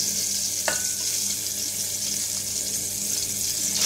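Eggplant sizzles steadily in hot oil, a dense and even hiss close by, broken once by a small clink.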